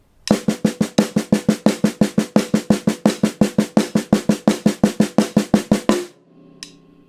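Rapid, even semiquaver strokes on a drum at 85 beats per minute, four to a beat, about thirty-four crisp hits in a steady stream, then the playing stops, leaving a brief ring and one faint click.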